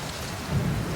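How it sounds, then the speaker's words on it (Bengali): Steady rain pours down on a rainy day, with a low rumble of thunder swelling in the second half; no voices. "কখন থেকে যে বৃষ্টি নামছে তা কে জানে"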